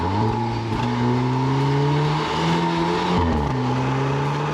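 A Volkswagen Golf R engine revs steadily up toward its red line with a shift partway through, a loud sustained rising drone with tire noise heard close up and no talking.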